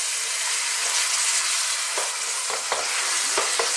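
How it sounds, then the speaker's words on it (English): Bacon fries in a pan over high heat and is stirred, making a loud, dense, steady sizzle with a few sharper spatter crackles near the end and no voices. "we're going to fry this in the pan. I'm on a kind of quite a high heat"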